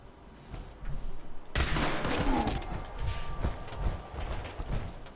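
Rapid bursts of shots from a two-shot laser pistol in Fallout 76, crackling in quick succession after a quiet start, loud and dense with a few sharper hits standing out.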